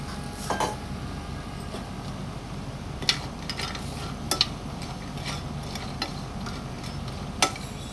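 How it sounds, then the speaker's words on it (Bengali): Kalai lentil badi dry-roasting in a frying pan without oil: a faint, steady crackle broken by a few sharp clicks and scrapes of a spatula against the pan, close by and with no talk. "এখন কেলাইয়ের বড়িগুলো দিয়ে দিব, কাঠখোলায় ভেজে নিব তেল ছাড়া"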